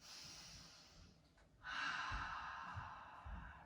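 A deep breath during a gentle beginner's yoga flow: a long slow inhale, then a fuller, louder exhale through the nose, close and clear with no talking.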